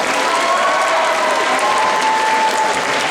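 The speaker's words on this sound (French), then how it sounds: "donc il faut les applaudir elles aussi" Sustained, loud applause from a convention audience at a cosplay contest, dense and even throughout as the crowd claps for the event organisers, with a faint whistle-like tone drifting over it.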